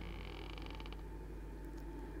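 A door creaking open in a horror video game, a sustained, grinding creak with a rhythmic stuttering texture over a constant low rumble, moderately loud and heard alone without voices.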